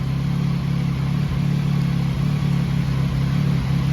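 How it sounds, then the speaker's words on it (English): A 2023 Yamaha XSR900 motorcycle with its stock exhaust revs steadily nearby, a continuous low engine drone with brief dips between throttle blips, heard alone. "despite the exhaust being huge, the stock exhaust, it actually sounds pretty good"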